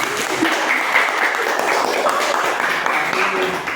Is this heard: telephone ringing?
no